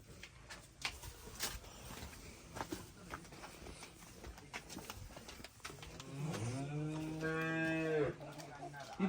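A buffalo lets out a long, low moo toward the end, preceded by scattered shuffling and clattering noises in a barn.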